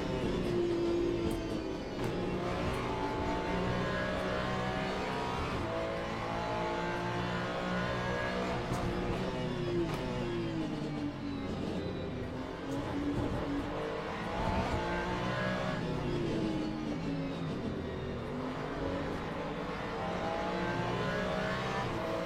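GT3-class race car engine in the Le Mans Ultimate racing sim, droning and revving steadily with rising and falling pitch through gear changes, loud and continuous for the whole stretch with no talking.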